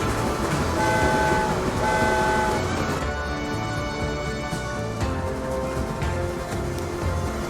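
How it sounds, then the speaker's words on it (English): A train horn sounds in the Transport Fever 2 video game, giving sustained toots over busy background rumble and traffic noise that last for several seconds. "trains and vehicles can now use the horn button"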